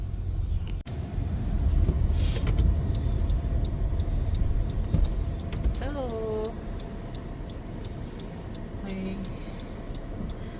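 Rush hour traffic flows along a road in a steady, moderately loud roar of passing cars, with a brief faint voice and some light ticking over the continuous wash.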